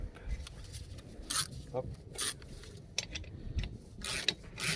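A bolt being tightened to push the brake drum off a Honda Civic, giving intermittent ratcheting clicks and metal scraping in short bursts, close and fairly quiet.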